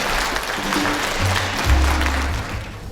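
An audience at a model house opening ceremony claps in a steady, moderately loud burst of applause, heard alone with no talking.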